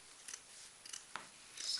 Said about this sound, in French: tu me coupes la feutrine et tu recouvres?